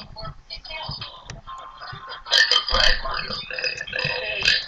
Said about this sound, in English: Like a blurp, like a burp